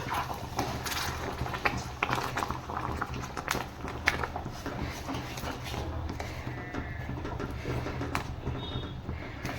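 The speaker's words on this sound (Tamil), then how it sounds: "பாவு சேர்த்துட்டு நல்லா மிக்ஸ் பண்ணி விட்டுக்கலாம்." A spoon stirs thick beetroot halwa in a pan, with steady scraping and irregular soft knocks over a low bubbling hiss. No voices.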